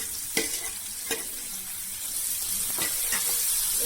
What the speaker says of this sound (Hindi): इनको थोड़ा सा फ्राई होने देंगे।